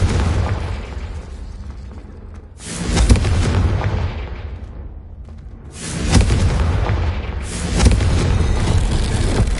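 Confringo fire spell in Hogwarts Legacy bursting into loud rumbling explosions, two big booming blasts with long roaring tails, close and dominant with no talking.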